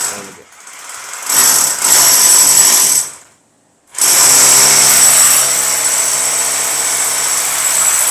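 Power drill boring into a house wall to mount an air conditioner, loud harsh grinding bursts that start, cut out briefly to silence around the third second, then resume steadily, close by.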